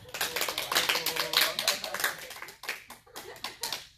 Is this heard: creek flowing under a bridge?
no